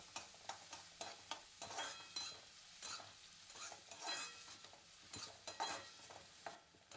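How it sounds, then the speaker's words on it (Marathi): Onions sautéing in a pan over medium gas, a steady soft sizzle broken by repeated scraping stir strokes of a spatula, close and fairly quiet, with no voices. "कांदा हा गुलाबी होईपर्यंत परतून घ्यायचा ह्याच्यामध्ये."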